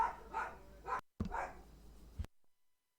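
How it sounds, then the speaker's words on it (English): Several dogs bark in short bursts, a few rapid woofs followed by a brief pause and then another muffled bark, heard indoors at moderate distance. "Sorry about the dogs."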